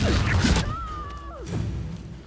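A Confringo spell strikes in Hogwarts Legacy, landing as a loud heavy thud and crash with a brief whooshing trail, followed by a rising magical tone and a second softer impact.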